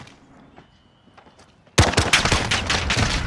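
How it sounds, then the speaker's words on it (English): Gunfire from a video game shotgun in a 2v2 gunfight match, a sudden loud burst of rapid shots that starts partway through after a quiet stretch and continues densely to the end. "I'm shooting a fucking shotgun at him."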